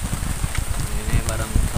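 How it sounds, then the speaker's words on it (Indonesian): Heavy rain pours at a riverside fishing camp on a swollen Indonesian river, a dense steady hiss close around the microphone, with a voice speaking over it. "Dan ini teman-teman tuh hujan besar lagi teman-teman."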